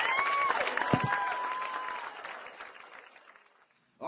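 Comedy show audience in New York clapping and cheering, a warm burst of applause with a whistle that fades out over a few seconds before a voice starts.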